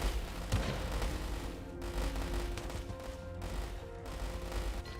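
Submachine gunners firing during a battle in the strategy game War Selection, with dense, continuous crackling volleys of small-arms fire and scattered impacts layered in a busy battle mix, no one talking.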